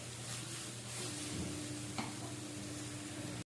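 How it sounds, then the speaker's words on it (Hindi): Onions sautéing in an oil-filled pan for spicy masala okra, giving a steady, close, continuous sizzle with a faint stir or utensil tap partway through, no talking. "यहाँ पे जी प्याज सौटे होना शुरू हो गया है"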